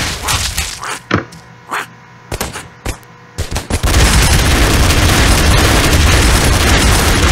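A missile bombards an alien turret in the Broforce video game, with a series of sharp gunfire bursts and thumps that give way to a loud, sustained roaring explosion rumble.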